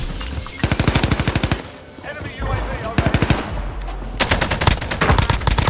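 Buffed AK47 firing in a video game on Rebirth Island: loud, close bursts of rapid automatic gunfire in three separate strings, with brief pauses between them.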